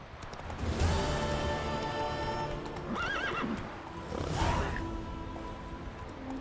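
A horse in the video game The Witcher 3: Wild Hunt whinnies loudly and repeatedly over a sustained musical background, with clip-clopping hooves and a snort mixed in.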